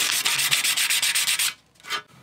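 Abrasive grit rubs quickly back and forth along a rough galvanised metal edge in a run of rhythmic scraping strokes. It stops briefly, then one last short pass follows, with no voices.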